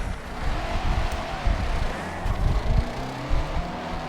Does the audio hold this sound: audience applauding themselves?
no